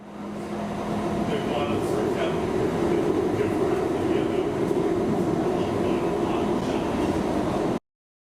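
A MAX light rail train passes during 100+ degree heat, a steady loud rumble of wheels and motors holding for several seconds before cutting off abruptly, with a voice faintly underneath.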